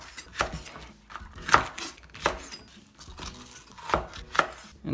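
A knife slicing cabbage stem on a cutting board for Japanese yakisoba, making a series of crisp, irregular chops at close range with small clinks in between.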